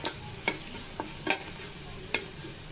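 Garlic, dried chili and cumin fry in hot oil for a halim tempering, a soft steady sizzle punctuated by a handful of sharp spoon taps and scrapes against the pan.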